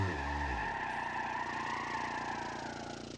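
A boosted, turbocharged car engine in the BeamNG.drive driving game howls at high revs, starting with a quick climb in pitch and then holding a loud, steady drone that slowly fades, alone with no talk.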